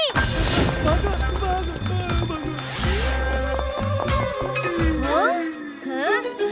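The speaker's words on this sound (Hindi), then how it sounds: "ये बैंक में स्कूल की घंटी क्यों बज रही है?" An alarm bell rings continuously inside a bank in a Hindi animated cartoon, a steady metallic ringing mixed with background music and cartoon voices talking over it.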